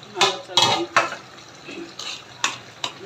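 A spiced curry of rui fish, tomato and bean seeds is stirred in a wok: about seven sharp metallic clanks and scrapes at an uneven pace over a soft background sizzle.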